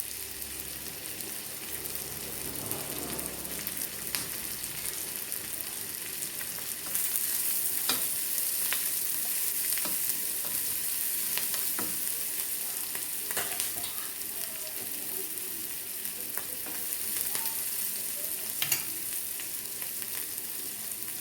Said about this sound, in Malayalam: ഇതും ചേർത്തൊന്ന് വഴറ്റിയെടുക്കാം.